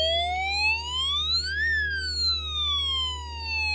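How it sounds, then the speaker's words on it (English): A Snap Circuits electronics project sounds a loud siren-like alarm, one tone sweeping up then gliding back down with bright harmonics over a steady low hum, alone with no talk. "Please turn down your volume because there's going to be a loud alarm here."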